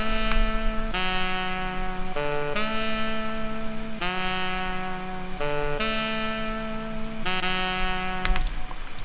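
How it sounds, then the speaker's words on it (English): A sustained, reedy saxophone line plays held notes in several phrases with short breaks, clear and upfront over faint background music. "Just a little bit of saxophone."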